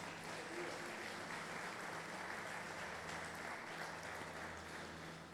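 A church congregation at a Thursday service applauds, a dense, even wash of clapping that holds steady for several seconds under a low hum, with no talk.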